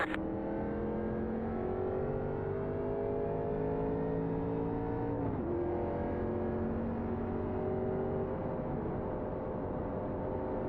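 Race car engines on a superspeedway in the iRacing sim, a dense layered drone of several cars running close together, with engine pitches sliding and one dipping sharply midway, steady and loud throughout.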